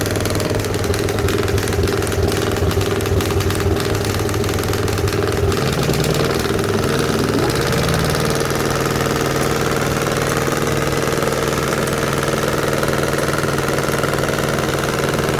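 A small two-cylinder starter motor for a large engine runs steadily and loudly, a low mechanical drone with a slight knock that shifts pitch briefly midway, then settles back to a constant idle.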